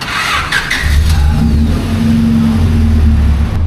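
The engine of a 1999 Honda Civic SiR idles close up through its muffler, with a low steady rumble that rises into a short rev.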